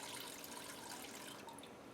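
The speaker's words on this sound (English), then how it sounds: "remove the cloth from the bucket and squeeze the excess water from the ginger" Water trickles and drips as blended ginger wrapped in a cloth is squeezed out over a bucket, a steady close wet patter with no speech.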